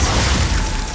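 Glacius, the ice spell in Hogwarts Legacy, fires as a dense, steady crackling rush of icy noise lasting about a second, loud and close with no voices.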